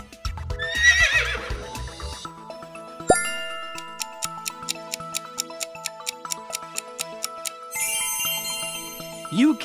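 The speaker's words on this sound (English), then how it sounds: "Horse." A horse whinnies near the start, high and shaky, over a steady ticking, music-box style backing that keeps a regular beat.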